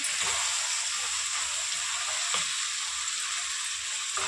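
Ridge gourd and dried shrimp curry with tomato and chili cooking in a pan, a steady hissing sizzle throughout with soft stirring scrapes, fairly close and without talking.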